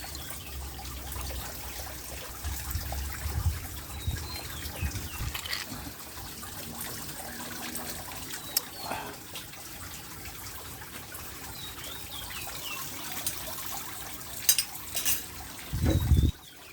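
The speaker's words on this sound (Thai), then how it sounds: "มีน้ำตกด้วย" Steady splashing rush of a waterfall at a resort, broadband and continuous, with occasional louder bursts and a brief thump near the end.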